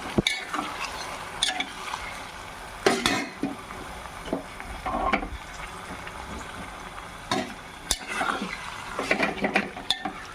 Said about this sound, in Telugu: మటన్ వేసుకొని ఒక్కసారి తిప్పుకుందాం